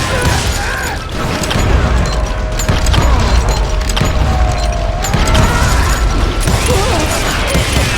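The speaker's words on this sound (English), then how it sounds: "Somebody's shooting at me." Gunfire and clanking action sounds fill a Call of Juarez game scene, dense and loud throughout with a constant rumbling backdrop and scattered sharp reports.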